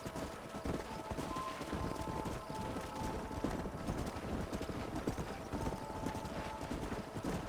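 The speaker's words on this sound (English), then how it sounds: "Let's see if I can get these horses all on the road." Horses gallop in the Western video game Red Dead Redemption, a dense, continuous clatter of clip-clopping hooves at steady pace, fairly close, with faint tonal game sounds underneath and no talking.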